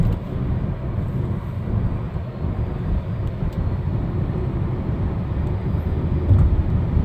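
A low-mileage car's engine runs steadily from inside the cabin while driving, a continuous low rumble with road noise holding an even level throughout, with no talking.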